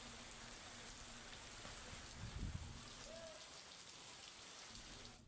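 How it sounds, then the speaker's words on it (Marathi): Steady rain falls throughout during an unseasonal hailstorm with strong wind in Maharashtra, a dense even hiss with a brief low rumble near the middle. "वादळी वाऱ्यासह गारांचा पाऊस झाला"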